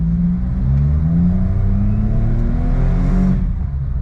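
A warmed-up Suzuki Jimny pulls away in drive, its engine droning loud and close with a smooth rising rev through the acceleration.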